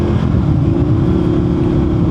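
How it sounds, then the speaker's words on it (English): Wind roars against a rider on an Indian FTR1200 motorcycle with knobby tires at highway speed, a loud continuous rumbling buffet mixed with engine drone. "Literally getting blasted by the wind."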